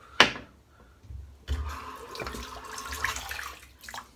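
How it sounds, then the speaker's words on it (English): A shaving brush is dipped into a bowl of water, giving a sharp splash followed by softer sloshing and trickling water sounds, close and fairly quiet. "Just dip my brush in the water."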